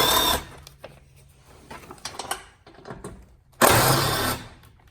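Bolts and push pins coming out from under a Fiat 124 Spider bumper: brief ratcheting and mechanical clicks with scraping handling noises, plus two louder bursts of whirring, close and fairly quiet.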